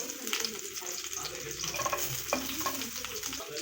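Garlic sizzles in hot oil with mustard seeds for a vegetable palya, a steady faint crackle and hiss with light scraping in the pan throughout.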